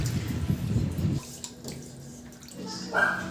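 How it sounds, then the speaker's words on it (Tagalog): Water pours steadily into a cooking pot for tofu soup for about a second, followed by quieter clatter and a brief splash or trickle toward the end. "Maglagay na ako ng tubig"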